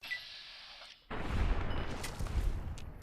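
Gunfire erupts in Fallout New Vegas after a quiet second, with a dense, rumbling spread of shots and booms continuing to the end.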